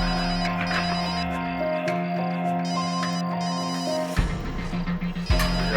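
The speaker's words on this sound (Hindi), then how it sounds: "फोन यहाँ आसपास ही बज रहा है" A mobile phone ringing nearby with a steady, repeating electronic ringtone melody, moderately loud and continuous, with a brief clattering shuffle near the end.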